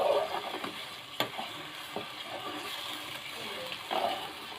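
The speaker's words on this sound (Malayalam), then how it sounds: "ഇങ്ങനെ ഇളക്കി കൊടുക്കാം." Pulinji being stirred in a pot over a wood-fired stove, with a steady soft scraping and bubbling texture broken by a few sharper knocks of the spoon, close and fairly quiet.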